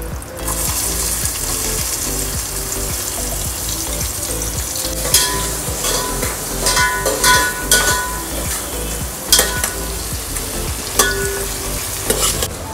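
Onion sizzles loudly in Amul butter with a cumin tempering for street-style pav bhaji, a dense, close frying hiss with bursts of crackle and the clatter of a stirring spoon against the pan, and no one speaking.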